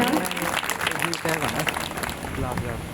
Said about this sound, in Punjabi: ਪਰਮੇਸ਼ਵਰ ਦੀ ਮਹਿਮਾ ਕਰਾਂਗੇ ਜ਼ੋਰ ਦੀ ਤਾੜੀ ਦੇ ਨਾਲ